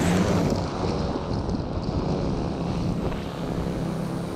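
A custom-built conservation drone lifts off outdoors, giving a steady broadband whir and rush with wind buffeting across the microphone, constant in level throughout without speech.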